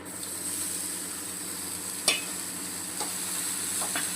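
Chopped, washed ridge gourd sits in a hot pan with spices. A faint steady sizzle holds throughout, broken by one sharp clack and a couple of lighter knocks, close by with no talking.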